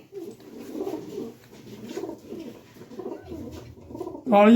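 A pigeon coos repeatedly in soft, rolling phrases, close by, ending with a sudden louder bump.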